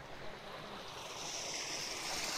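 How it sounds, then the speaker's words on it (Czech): Water running along the end of a man-made stream in a zoo's enclosed woodland area, where it is pumped back uphill to circulate; a steady, moderate broadband rush with no voices. "A zde je konec onoho umělého potoka a dále nahoru se vyčerpá voda a cirkuluje zde."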